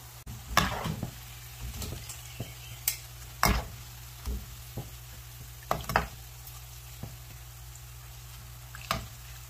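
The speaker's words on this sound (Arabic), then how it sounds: "صح إنه قلي البصل يأخذ وقت، بس لازم تنتبهوا على قلي البصل" Onions sizzle softly in a pan for Adeni zurbian while a spoon stirs them, giving scattered scraping knocks over a low, steady frying hiss.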